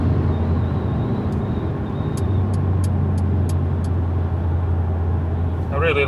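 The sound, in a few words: 2019 Mercedes B200 braking hard from highway speed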